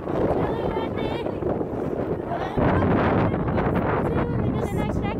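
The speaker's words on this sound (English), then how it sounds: "It's really windy." Strong wind gusting outdoors at a nature preserve, a steady broadband roar buffeting the microphone throughout, growing louder partway through, with voices faintly mixed in.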